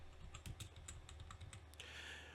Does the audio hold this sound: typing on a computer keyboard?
yes